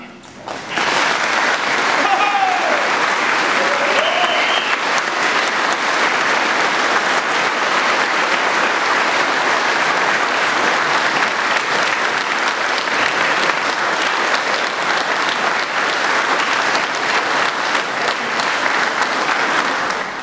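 Sustained applause from a congregation inside a church during a highland Christmas midnight Mass in Bielsko-Biała, Stracona, steady and dense for about twenty seconds with no other sounds over it.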